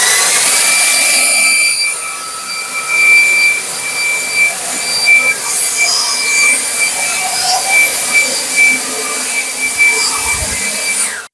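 An Anykit 20V cordless leaf blower runs on turbo mode over gravel in a yard, its loud, steady high-pitched whine and rushing air lasting throughout before cutting off abruptly at the end.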